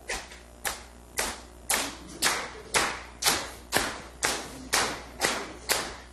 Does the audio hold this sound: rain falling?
no